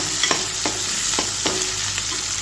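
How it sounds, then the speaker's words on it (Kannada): Garlic, ginger and onion sizzle steadily in a hot pan while a spatula stirs and scrapes, striking the pan about five times in an uneven rhythm; close and fairly loud, with no voices. "ಇದನ್ನು ಕೆಂಪಾಗೋ ಹಾಗೆ ಹುರ್ಕೋಬೇಕು"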